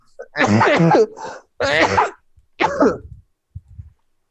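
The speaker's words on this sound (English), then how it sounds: "My sneezes are very dramatic." Several loud, explosive sneezes burst out one after another during a tabletop Dungeons and Dragons session, each a sharp voiced outburst with a short gap before the next, ending in a softer sniff.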